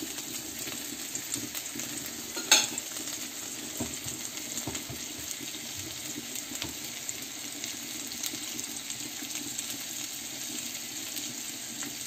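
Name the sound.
frying salmon in a pan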